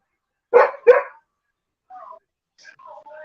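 Dogs bark twice in quick succession at close range during a wrestling broadcast, then a few softer whimpering yips trail off over near silence.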